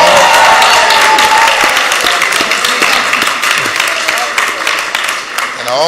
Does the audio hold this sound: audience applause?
yes